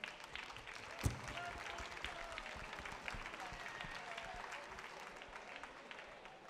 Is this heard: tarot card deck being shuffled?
no